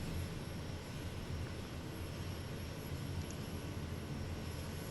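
A seaplane's propeller engine runs at low idle, a steady broadband drone with a faint whine on top that holds constant and close throughout, with no voices.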